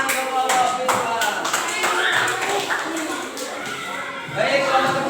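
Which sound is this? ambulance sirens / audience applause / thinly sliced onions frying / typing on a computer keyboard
audience applause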